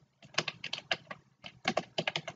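Rapid bursts of keystrokes on a computer keyboard while entering command-line commands to format a USB pen drive, clustered in quick runs with short pauses, close and clear with no talking.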